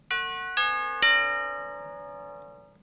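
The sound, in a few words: bells playing melody in a song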